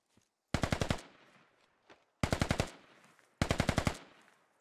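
Video game automatic gunfire in Operation: Fish Hook rips out in three sharp, loud bursts of about six rapid shots each, separated by short quiet gaps with faint echoing tails.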